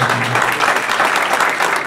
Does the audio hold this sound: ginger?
no